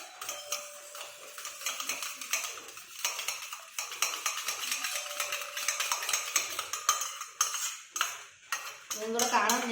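Eggs beaten with a spoon in a bowl, with curry leaves among them, making rapid, steady clinking and scraping strokes that carry on throughout, close and fairly loud.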